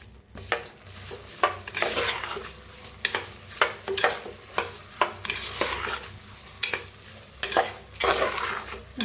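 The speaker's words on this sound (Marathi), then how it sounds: "ह्याच्यात तांदूळ बी आता छान मिक्स करून घेऊया" Rice is stirred into hot oil and masala in a pan for masale bhat. Rhythmic scraping strokes of the spoon repeat over a soft, steady sizzle, with no talking.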